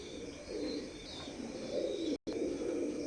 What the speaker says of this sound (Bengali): সেমি অ্যাডাল্ট কবুতর জোড়া একটু দেখেন।